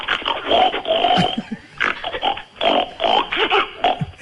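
A man imitates a pig's oinking on an Italian radio show, a run of nasal grunts and squeals in bursts with short pauses, loud and close.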